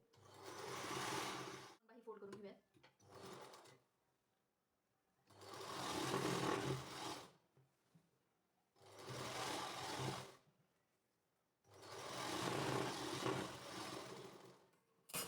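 A sewing machine stitches a kurti sleeve seam in four loud bursts of steady whirring, separated by short quiet gaps with faint handling noises.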